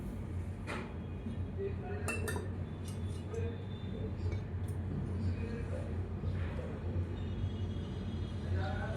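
Gram flour batter being mixed in a bowl, with scattered clinks and scraping taps of a utensil against the bowl over a low steady background hum, fairly quiet.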